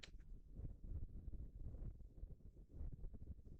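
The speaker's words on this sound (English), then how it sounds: "It's windy." Gusty wind from a Florida storm buffets the microphone in low, rumbling surges, fairly quiet overall with no voices.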